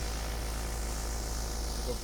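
An armed scout helicopter in the shooter game BattleBit Remastered drones steadily with a constant low rotor hum and broad engine rush, loud and unbroken throughout.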